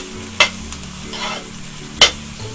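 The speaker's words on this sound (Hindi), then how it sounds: "लाइट गोल्डन हमें प्याज को फ्राई करना है।" Two medium onions fry in hot oil in a pan with a soft background sizzle, while a spoon stirs them with two distinct sharp scrapes and a low hum underneath.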